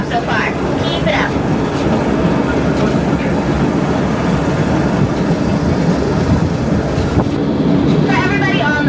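The Hawaiian Railway tourist train rolls along its tracks with a continuous low rumble and rattle of the cars. Passengers talk underneath, and faint high squeals rise briefly near the start and end.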